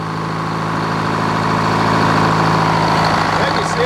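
An old Frick sawmill engine idles steadily and close by, a continuous low rumble with a strong even hum and no break across the clip.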